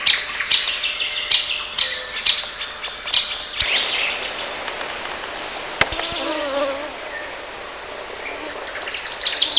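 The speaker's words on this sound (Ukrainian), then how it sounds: "звучать інші голоси Великої Синиці, Малинівки, зяблика" Great tits, robins and chaffinches singing close by in a forest, with repeated bright phrases and trills, then a softer stretch before rapid chirping returns.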